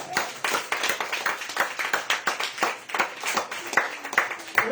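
A church congregation claps during a sermon, a steady rhythmic run of fairly quiet hand claps in a reverberant hall, heard without speech on top.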